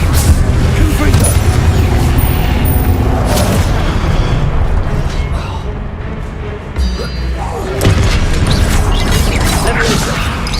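Confringo blasting spells exploding in Hogwarts Legacy, loud repeated booms and crashing impacts layered with mechanical game effects, dense and continuous with voice-like sounds mixed in.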